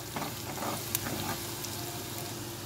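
Garam masala and cumin powder frying in oil in a pan while being stirred, making a soft continuous sizzle with a few light scrapes, close and fairly quiet, without speech.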